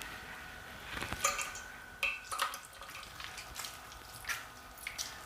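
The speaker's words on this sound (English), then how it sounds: "And just let all the liquid drip out." Liquid from poached pear pulp wrapped in muslin drips into a bowl, quiet irregular drips and taps close by with no talking.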